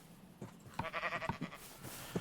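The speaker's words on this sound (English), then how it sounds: "There's a sheep. There's 2 sheep." A sheep in the Minecraft video game gives a short, wavering bleat, clear against a quiet background, along with a few soft clicks and taps.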